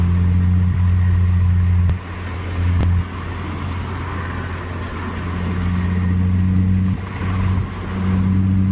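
A car engine with factory exhaust rumbles loudly up close, its exhaust note rising and falling as it revs and shifts, with a deep steady drone between.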